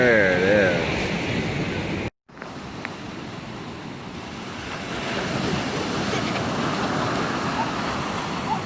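Surf rolls in at Sandy Beach Park, Hawaii, as a broad, steady wash of waves mixed with wind noise on the microphone, with a brief cut near the start and voices faintly present.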